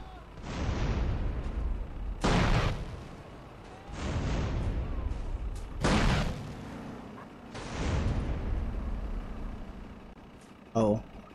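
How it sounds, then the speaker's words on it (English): Rocket launches and blasts in GTA San Andreas Definitive Edition, several loud booming impacts spaced a couple of seconds apart, each with a rumbling tail, heavy and close, mixed with a speaking voice. "About to use a rocket."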